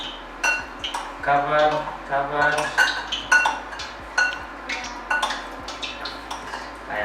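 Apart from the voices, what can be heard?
spoon mixing scotch eggs in breadcrumbs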